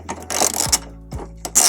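A ratchet loosens the two 17mm tow hook bolts on a 1998 Subaru Forester, giving bursts of close, fast mechanical clicking with short pauses between strokes.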